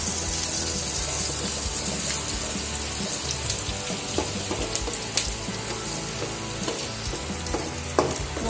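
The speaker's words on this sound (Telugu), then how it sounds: "వేగినాక కొద్దిగా కరివేపాకు, ఒక రమ్మ, బ్రౌన్ కలర్ వచ్చినాక వేయించుకోవాలి అవన్నీ బాగా" Curry leaves and spices frying in oil in a pan for a dry fish curry, a steady close sizzle with occasional crackles and a few light clinks of a spoon, no talking.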